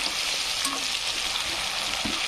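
Potatoes and capsicum fry in a pan for masala pulao, giving a soft, even sizzling hiss with a few faint stirring clinks, heard alone and fairly quiet.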